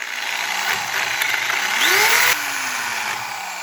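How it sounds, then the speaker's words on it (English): A power drill bores a half-inch hole for a lag shield anchor, a close, steady motor whine that rises in pitch as the bit spins up, then continues evenly. "So I'm going to drill a half inch drill."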